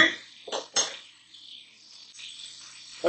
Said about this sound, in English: Go ahead and stir these mushrooms a little.